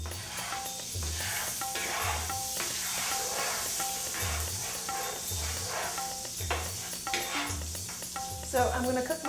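Oil and butter sizzle steadily in a paella pan, a continuous broad hiss running close and fairly loud throughout, with a repeating low thump underneath and a brief louder crackle near the end.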